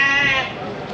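Lambs bleat close by at a livestock market in Havran, Balıkesir, a short, high quavering cry that fades slightly toward the end.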